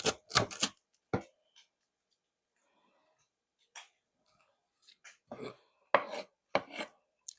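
A knife chopping food on a cutting board in a kitchen where corned beef and bacon are cooking: clusters of crisp, close thuds separated by quiet gaps, with no talk.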